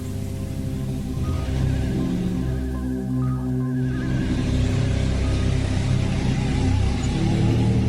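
A cartoon car drives with a continuous engine hum and rumble that briefly dips then returns, steady and fairly loud.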